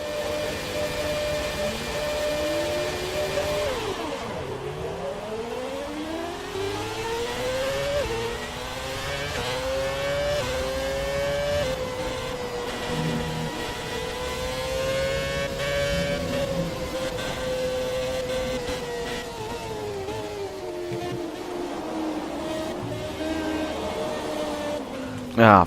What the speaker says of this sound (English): you can hear what the 2010 Red Bull sounded like